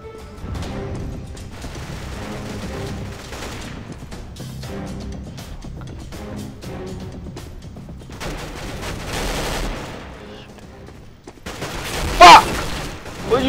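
Bursts of gunfire from the video game Counter-Strike: Global Offensive, several rapid volleys spread through the clip at moderate loudness, with a louder burst near the end and a voice talking over parts of it.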